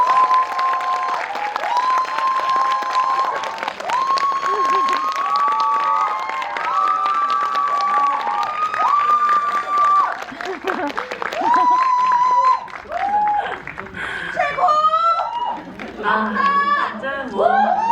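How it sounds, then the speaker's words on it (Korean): An audience applauds at a Korean film's audience Q&A for Exhuma, with director Jang Jae-hyun and actor Choi Min-sik joining them. Under the clapping, an announcer keeps talking over a microphone, and cheers and crowd chatter rise toward the end. "큰 박수 부탁드립니다"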